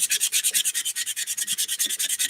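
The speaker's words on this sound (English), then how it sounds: "Let's give this one a sand as well." Steady back-and-forth hand sanding on a wooden scroll-saw castle, close and fairly loud, about ten rasping strokes per second with no talk.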